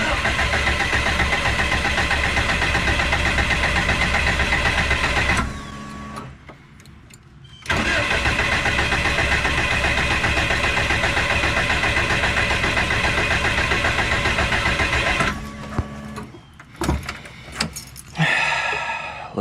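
Engine cranking without catching: long, loud stretches of steady mechanical churning at close range, broken by short pauses with clicks and knocks, and the engine never settles into a running idle.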